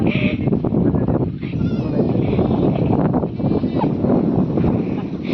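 Goats on a farm bleat loudly and repeatedly up close, their wavering cries overlapping almost without pause, with people talking in the background.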